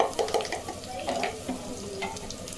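Ginger garlic paste fries lightly in a pan for a paneer cashew pulav, with a soft continuous sizzle and intermittent stirring scrapes close by.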